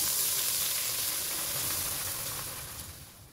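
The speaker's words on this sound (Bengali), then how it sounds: "গরম মশলাগুলোকে হালকা ভেজে নেব।" Whole garam masala spices frying in hot oil in a pot for yakhni biryani, a steady close sizzle and hiss that fades slightly toward the end.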